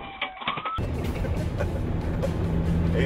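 Navistar diesel truck engine revving hard under acceleration after a brief quiet start, a loud steady roar with rising pitch that fills the cab, no talk over it.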